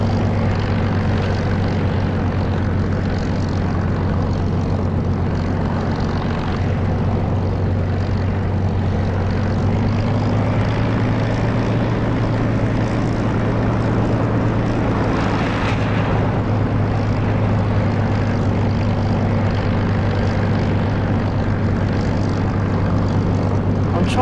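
A prop aircraft engine idles and rumbles steadily while taxiing toward the runway in the DCS flight simulator, a loud continuous drone with a low hum throughout and no talk.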